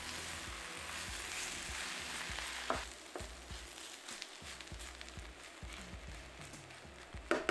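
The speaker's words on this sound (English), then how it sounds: "Sauté for 5 minutes to let the bamboo shoots absorb the seasoning." Dried bamboo shoots being sautéed with fish sauce, bouillon and ground black pepper, a soft continuous sizzle with occasional clacks and scrapes of stirring, fairly quiet and free of speech.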